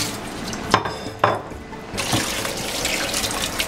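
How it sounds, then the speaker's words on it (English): Cold tap water runs into a bowl of fresh mussels in a kitchen sink, a steady splashing stream with a couple of sharp clinks near the start, then a fuller, louder gush that continues to the end, close and without talk. "Or just cold water from the tap's fine."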